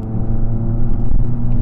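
A Fiat 500 with a five-speed manual gearbox drives along, its small engine giving a loud, steady low rumble and drone from inside the cabin, with no talking over it.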